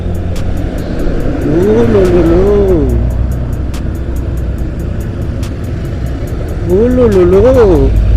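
Car engine revving hard at full throttle on a busy coastal highway with roadworks and traffic, a rising harmonic whine climbing twice, loud and close, with steady road rumble and wind underneath and people talking.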